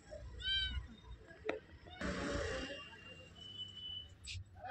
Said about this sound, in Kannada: ಬೆಕ್ಕು ಮೇಲೆ ಹತ್ಬಿಟ್ಟಿದೆ ಐಟಮ್ ಮೇಲೆ